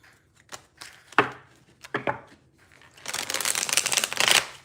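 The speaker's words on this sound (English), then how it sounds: "I don't have much space on the table left to shuffle." Playing cards are shuffled on a table during a tarot reading, with a few separate riffles and slaps, then a longer continuous flutter of cards, close and fairly loud.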